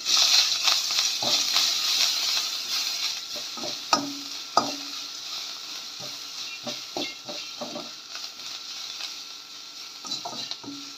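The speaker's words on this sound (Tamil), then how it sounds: "லேசாக வதக்கிக்கலாம்." Mudakathan greens sautéing in a pan, with a soft steady sizzle and occasional scraping, stirring knocks of a spoon against the pan.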